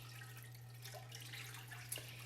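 Beef broth is poured into a pan and stirred to deglaze it, a soft steady liquid wash with light scraping over a constant low electrical hum.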